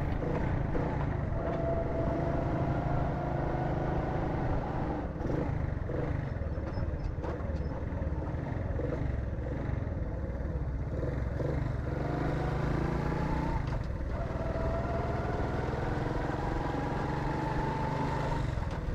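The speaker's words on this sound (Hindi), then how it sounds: "ये जो अभी आपके सामने कुछ मोटर बाइक गई हैं, ये सारा ट्रैफ़िक अब एग्ज़िट करेगा यहाँ से" Traffic, motorbikes among it, streams past on an expressway exit in Karachi at the Korangi Causeway interchange, making a steady loud engine roar and wind rush with passing swells and no talking.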